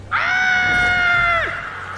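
A woman in a film lets out one long, loud, high-pitched scream that holds steady for over a second before breaking off, close and alone.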